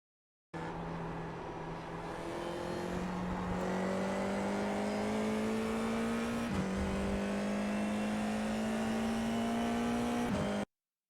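An FIA F4 race car accelerates on the Rudskogen circuit, its engine note climbing steadily through the gears with brief dips at the upshifts, heard close and loud from the cockpit and alone.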